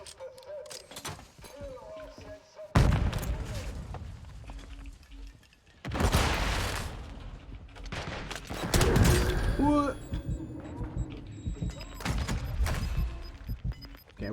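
Gunfire and a banked grenade blast in Warzone 2 solos: several loud bursts of shooting and booming impacts break out in waves over steady game noise, with a player talking throughout.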